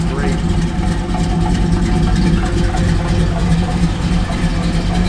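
A 1968 Dodge Charger engine idles with a steady, deep, even rumble, close and constant throughout, with someone talking over it.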